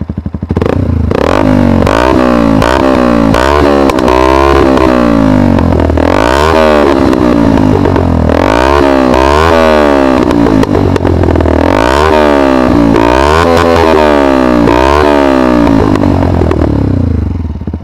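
A loud Yamaha YZF 125 R motorcycle with a Leovince exhaust, baffle removed, revving hard in repeated bursts, rising and falling throughout with a raw, crackling exhaust roar.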